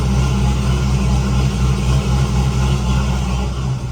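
A big turbocharged Camaro IROC with a turbo LS engine runs at a steady idle, a loud, close, continuous low rumble with a slight uneven pulse and no voices.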